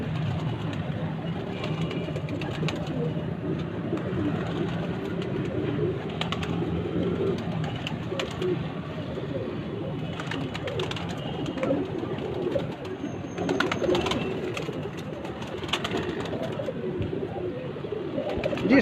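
Pigeons coo steadily on a rooftop, low soft murmuring calls layered over each other, with faint outdoor background noise throughout.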